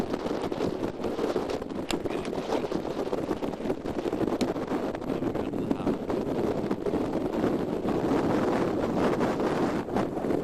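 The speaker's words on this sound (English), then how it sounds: "sailing along beautifully in the breeze in front of Rangitoto in the background" Sailboat under full sail at about 7 knots in a breeze off Rangitoto near North Head, heard as constant wind buffeting and rushing water noise, steady and moderately loud with no talking.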